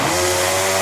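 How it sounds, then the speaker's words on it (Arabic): A blender runs loud and continuous while whipping bananas with sugar and cold water into juice, giving a steady motor whine with a strong harmonic hum and no pauses. "وهنضرب بقى بالخلاط"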